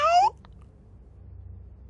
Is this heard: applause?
no